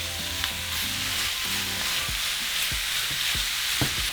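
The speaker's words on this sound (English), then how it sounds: "And we're going to begin to cook our meat." Beef for carne guisada browns in a pan with a broad, steady sizzle, while a spoon stirs and scrapes at irregular intervals close by.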